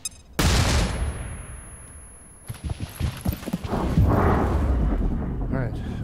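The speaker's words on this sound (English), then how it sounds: "Grenade out." A grenade detonates in the tactical video game XCOM: Chimera Squad with a sudden loud boom, followed by crackling debris and rumbling aftershocks, while a person talks quietly in places.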